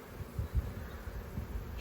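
Honeybees buzz faintly in an open hive as frames are moved around. It is a low, steady hum with soft knocks, quiet and close, and no one speaks.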